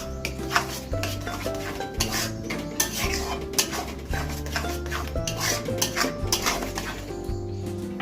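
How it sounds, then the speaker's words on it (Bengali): Fried vegetables are stirred into white sauce in a pan, with continuous close scraping and clinking of a utensil against the metal and no talk. "দিয়ে পাই সবজির সাথে এটাকে খুব ভালো করে মেশাবো"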